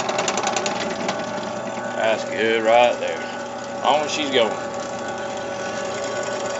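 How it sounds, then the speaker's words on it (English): A drill press runs to drill parts for a rat mower trailer, giving a steady, close motor whine throughout. Someone talks briefly over it. "Ain't nothing like having a drill press."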